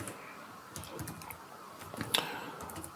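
A file name is typed on a computer keyboard, a few soft, scattered key clicks in a quiet room with low background hiss.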